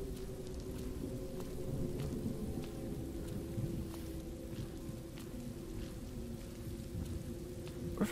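Steady rain with low thunder rumbling throughout a stormy mountain climb in the game Road 96, a dense continuous wash that stays even and fairly loud with no talk over it.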